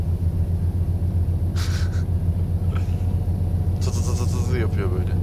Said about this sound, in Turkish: Motorun sesine bak.